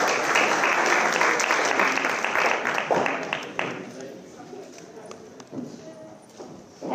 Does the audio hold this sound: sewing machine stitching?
no